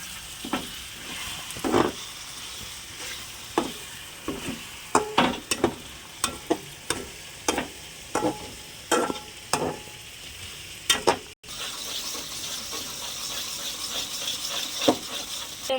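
Chopped onions for a paneer curry fry in a pan with a steady broadband sizzle, punctuated by repeated sharp scraping strokes of a spoon stirring them, close and fairly loud, with no talking.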